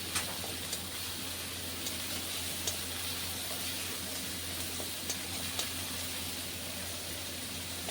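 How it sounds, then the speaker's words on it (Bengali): Ground shrimp paste frying in a pan, giving a steady, even sizzle with faint scattered crackles and no voices. "যে বাটা চিংড়ি মাছটা দিয়ে দিচ্ছি। এটাকে একটু ভালো করে ভেজে নিতে হবে।"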